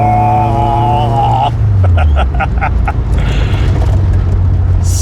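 A VW Citi Golf 1.8i, the naturally aspirated Mk1 hatchback, gives a loud, continuous exhaust drone with a shifting pitch and a few rhythmic pulses, heard close and alone.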